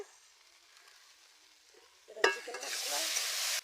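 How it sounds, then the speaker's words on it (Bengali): Near silence, then water is poured into a pan of sautéed potatoes for a rohu fish curry on a village clay stove, setting off a sudden loud sizzle that holds strong to the end. "এবারে জল দিয়ে দেবো"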